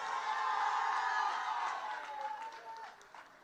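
A crowd applauds and cheers at an evening community meeting in Chaguanas, a dense wash of clapping and voices that slowly fades.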